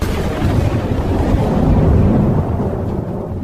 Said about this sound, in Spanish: apareció un fuerte viento y se desencadenó una gran tormenta.